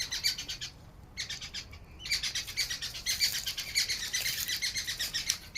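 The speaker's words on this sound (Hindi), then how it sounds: "और मोर ही नहीं बल्कि अन्य जो अन्य पक्षी हैं, देखिए उनकी आवाज़ सुन पा रहे होंगे।" Several birds calling and chirping in Mor Van, a man-made forest in Shahpura, Bhopal; busy overlapping high tweets and calls, brief pause near one and two seconds, then a dense continuous chorus, moderately near, no talk.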